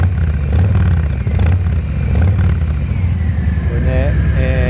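A Harley-Davidson FXBRS fitted with a JMCA Jekill&Hyde muffler idles with a loud, deep, throbbing exhaust close to the microphone. It holds a steady pulse throughout while someone talks over it.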